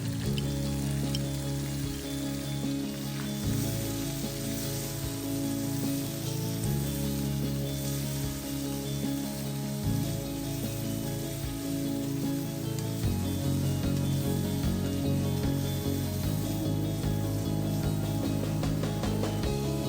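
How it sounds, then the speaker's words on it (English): Mutton liver frying in oil in a pan, a steady dense sizzle and crackle running continuously at close range, with faint background music underneath. "Just going to fry it until the color of the liver changes to light pink."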